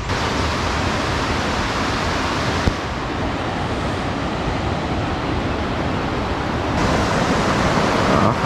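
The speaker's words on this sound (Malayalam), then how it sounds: "ഇതാണ് നമ്മൾ നേരത്തെ പറഞ്ഞ ആ ഒരു പുഴ, പുഴയോരം" A river flows at a riverside viewpoint near an elephant camp, heard as a steady, dense broadband rush of water that fills the whole stretch evenly without pause, fairly loud, with no voices over it.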